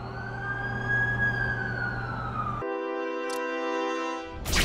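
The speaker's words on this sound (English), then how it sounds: "That's the ambulance I called." Ambulance siren arriving in a Spider-Man video game, a loud rising-and-falling wail that cuts off into a steady multi-tone horn blare, ending in a burst of noise.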